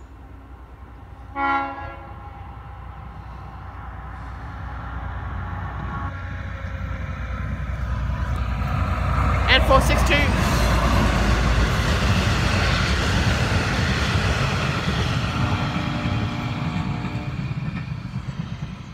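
A train rumbles through a railroad crossing, building from a distant approach to a loud, sustained roar of wheels and cars, with a brief horn blast near the start and no talking.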